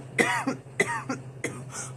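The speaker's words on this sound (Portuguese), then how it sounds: "eu acabei tossindo, engasguei" Three harsh coughing bursts, close and loud, spaced about half a second apart with short gasping pauses, from a person who has just choked while talking about horror punk music.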